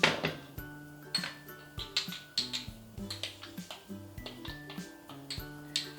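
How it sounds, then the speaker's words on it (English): A spoon stirs Barley Life powder into boiling water in a cup, clinking against the sides in a steady, rhythmic series of bright taps, close and clear with no talking. "What I'm going to do is I'm going to put in some Barley Life and stir it."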